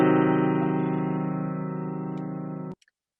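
One diminished triad strummed on an electric guitar through an effects unit, ringing with a slight distortion-tinged sustain for nearly three seconds before being cut off abruptly.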